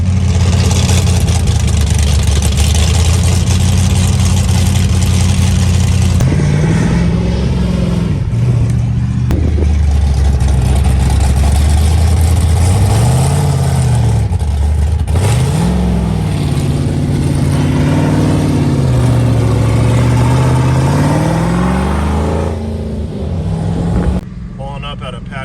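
A Pro Charged Trans Am with a loud, unmuffled exhaust awaiting welding idles with a deep, rough rumble, then revs in repeated rising and falling swells before settling near the end.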